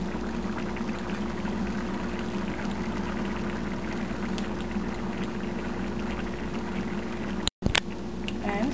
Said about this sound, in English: Now I am adding garam masala and this heavy whipping cream.